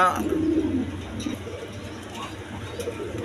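Pigeons coo at a pigeon market, with low repeated soft coos close by over a murmur of background crowd noise.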